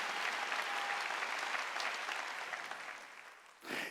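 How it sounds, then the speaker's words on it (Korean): A church congregation claps together during a worship service, sustained applause that gradually thins and fades, then a brief swell at the end. "박수로 하나님께 영광을 드립니다"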